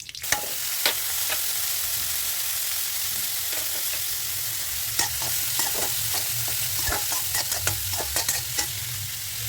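Garlic sizzles in hot oil in a pan that was just used for scrambled eggs, a steady broadband fry with scattered clicks and scrapes of stirring throughout, close and fairly loud with no talking.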